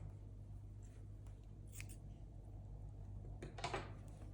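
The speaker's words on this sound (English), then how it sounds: "you can cut your yarn off" Scissors snip through crochet yarn in two quick, faint cuts over a quiet room hum.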